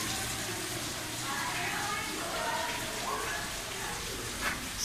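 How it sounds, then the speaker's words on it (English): A small waterfall splashes inside a conservatory, a soft continuous rush of falling water heard at a distance beneath faint background murmur. "Got a little waterfall."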